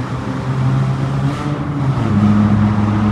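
Loud, droning exhaust of a modified car echoing inside a road tunnel, a steady low engine rumble that shifts pitch slightly as the car drives through, close and without talk.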